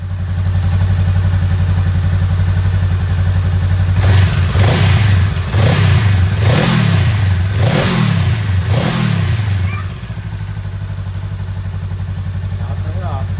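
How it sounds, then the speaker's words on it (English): A 2022 Honda Rebel 300/500 with a Shorty GP exhaust runs close by with a steady, deep idle, then revs in five quick throttle blips before settling back to idle. "it was a running video just for sound, and I'll repeat it with the Shorty on there as well"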